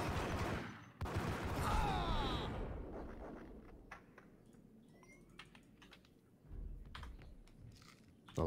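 Gunfire in the video game Max Payne: loud, close bursts of shots near the start, followed by scattered sharp cracks and clicks over a low ambient bed.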